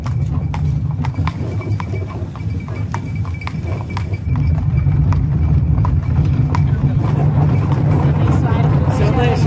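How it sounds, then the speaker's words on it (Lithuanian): Hooves of a horse-drawn carriage clip-clopping on a street in Valletta, Malta, a steady close rhythm of sharp clops over rumbling wheels and traffic, with people talking nearby. "Senais arkliais važiavau."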